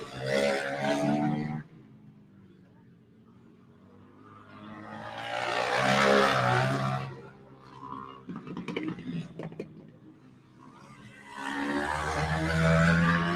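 A KTM 450 motorcycle racing on a dirt flat track, engine roaring past in loud swelling passes with rising and falling pitch, separated by quieter gaps, with a commentator talking in between.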